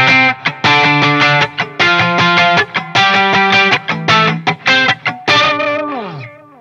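Heavily distorted electric guitar playing chords in a choppy, stop-start rhythm, loud and up close, ending on a sustained chord that fades out.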